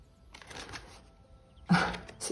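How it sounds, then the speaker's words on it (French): Tarot cards riffled and shuffled in short bursts, soft papery flutters near the microphone with a louder flurry toward the end, separated by quiet pauses. "Ah, les cartes sont sorties toutes seules."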